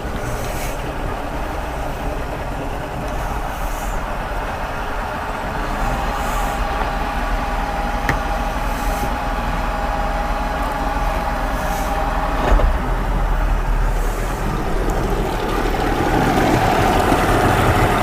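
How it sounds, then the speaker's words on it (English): An outboard motor running in a barrel of water rather than on flushing muffs, a steady loud droning hum with rumbling low end, idling and rising slightly toward the end, continuous with no voices. "So you can put it in gear, and it in the bucket runs pretty good."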